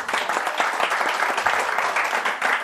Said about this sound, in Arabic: صفقوا لها